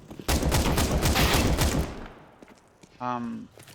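Video game gunfire comes as a dense, loud burst of rapid shots for about a second and a half, then fades. A short voice cuts in near the end.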